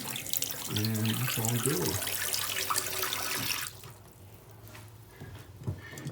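Water runs from a waterfall faucet after the valves are turned back on. A steady close rush stops partway through, then a few faint drips and handling sounds follow, with brief speech over the flow.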